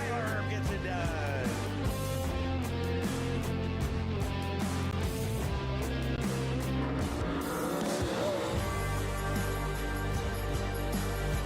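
MARS late model race cars roar around Fairbury Speedway, a dense, continuous engine drone with shifting pitch as cars race through the turns, loud and steady throughout with no talk.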